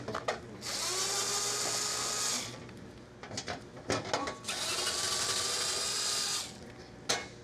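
A power tool whirs in two long sustained runs with clicks and clatter between them as it backs out underbody cover bolts on a Lexus LC 500, close and fairly loud, with no talk.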